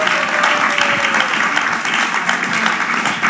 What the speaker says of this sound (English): can we also give a round of applause to Anita for being such a wonderful moderator?